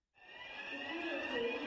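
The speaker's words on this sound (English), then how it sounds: "Loud alarms rang out, startling Anastasia awake" Alarms ring out as a sound effect, a faint steady electronic tone starting abruptly and holding on, slightly swelling over a short stretch.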